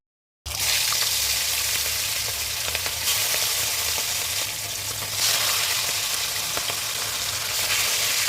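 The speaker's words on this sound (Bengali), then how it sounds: "আমি এখন ওই মাছগুলোকে ভাজবো।" Hilsa fish frying in plenty of mustard oil in a pan, a loud, continuous crackling sizzle that starts abruptly after a brief silence and holds steady close up.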